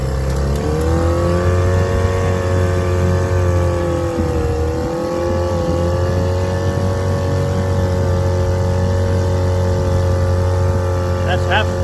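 A restored 1949 Johnson 2.5 HP outboard motor runs steadily at half speed on a California lake, a loud continuous droning hum with stable harmonics and a slight dip in pitch midway.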